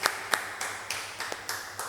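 A church congregation claps in a slow, loose rhythm, with several distinct claps spaced through the moment, fairly close and moderately loud.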